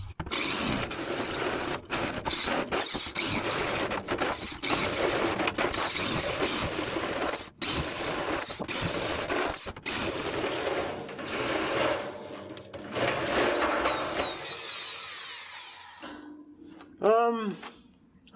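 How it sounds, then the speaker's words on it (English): A power drill bores a row of holes in a workpiece, its motor whirring loudly and continuously with short pauses between holes, then winding down near the end, with a voice talking briefly at times. "Let's drill a few more holes."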